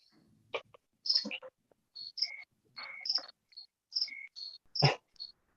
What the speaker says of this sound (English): seriously hear crickets.